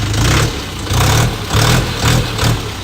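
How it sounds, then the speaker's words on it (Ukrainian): A cold Lovol 354 tractor engine runs steadily with a regular pulsing throb, its low chug rising and falling in even surges about twice a second. "Мотор працює дуже класно, рівненько, без рівків, без пинків."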